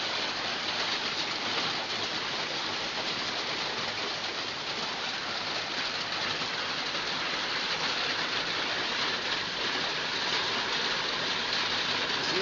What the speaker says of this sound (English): You see, it is really raining so heavy.